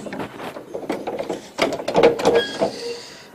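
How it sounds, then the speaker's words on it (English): Mower deck lift mechanism on a Yard King lawn tractor working through a series of metallic clanks, ratchet clicks and scraping knocks, irregular and close, building to louder grinding clatter near the end, with no talk. "Mower deck lift."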